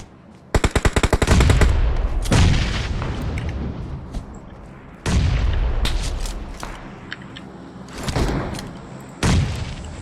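Gunfire in PUBG Mobile: a rapid burst of automatic fire followed by several separate loud bursts and booming shots, close and sharp, with short quieter gaps between them.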